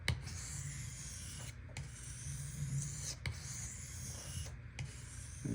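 A Benchmade 940 knife edge is drawn across monocrystalline diamond sharpening stones in long, even strokes, each one a close, gritty rasp with brief gaps between passes, and no one speaks.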